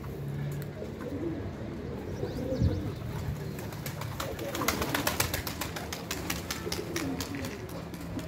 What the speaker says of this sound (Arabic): ها الحمام كياكل صافي، كيشرب